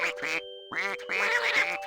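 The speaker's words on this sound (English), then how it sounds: "They're doing duck things, which is known as being loud." Ducks in the video game Viva Piñata let out a quick run of loud, nasal quacks, several harsh calls in close succession and near at hand.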